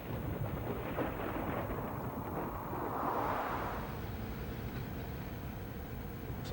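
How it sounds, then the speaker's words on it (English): Low rumbling thunder from an approaching storm rolls steadily through the whole stretch, swelling into a broader roar around the middle before easing off, heard alone with no voices. "Looks like a storm's coming."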